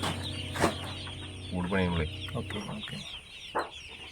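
Chickens cluck in a poultry farm shed, several birds sounding at once with a steady low hum behind them and occasional louder squawks.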